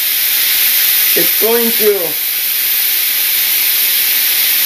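Steak in a hot pan with a little added water gives a loud, constant steamy hiss and sizzle. A voice briefly speaks over it partway through.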